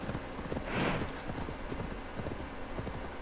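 Horse hooves in the Assassin's Creed Valhalla video game clip-clop in a steady rhythm under a constant wash of ambient noise, fairly quiet, with no talk heard.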